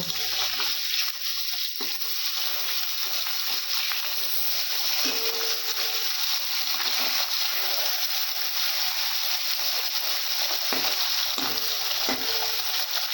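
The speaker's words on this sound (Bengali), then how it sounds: "তেল গরম হয়ে গেছে, মাছগুলো ভেজে নেব।" Fish frying in hot oil in a wok, with a constant crackling sizzle and occasional stirring and scraping sounds throughout.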